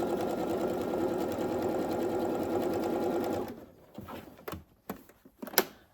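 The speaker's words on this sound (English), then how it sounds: "Do a back stitch, sew down." A sewing machine runs steadily for about three and a half seconds while back-stitching fabric for a sewing machine cover, then stops and leaves a few scattered clicks and taps.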